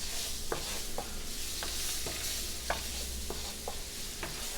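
Butter melts in a hot pan for a green peppercorn sauce, giving a steady close sizzle under light stirring and scraping clicks, with no talking.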